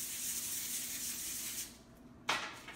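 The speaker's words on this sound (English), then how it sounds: "I do a light coat of cooking spray" A steady hiss of aerosol cooking spray onto foil runs for over a second, stops, then a short final burst of spray.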